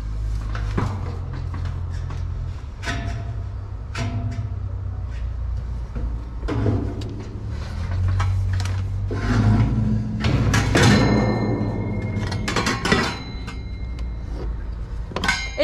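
A ROVSUN 36-inch stainless steel kitchen sink is turned over by hand, giving scattered hollow metallic clanks, knocks and a light rattle at close range, with quiet stretches between the bumps.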